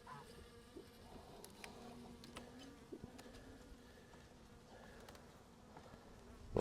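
Honey bees drone steadily around an open hive during spring brood box work, a dense continuous buzz close by with individual bees passing near, no talking.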